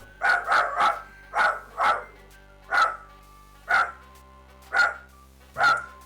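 Fozzie, a pet dog, barks loudly and close by, about ten sharp barks: a quick cluster of three, then single barks at uneven intervals, with near silence between them.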